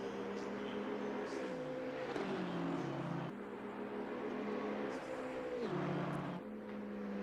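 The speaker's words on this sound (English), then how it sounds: "Hustling that that mammoth of a BMW around the track." A BMW race car lapping the Spa circuit in an endurance race, its steady engine drone loud and continuous, with the pitch dropping twice as it shifts or slows.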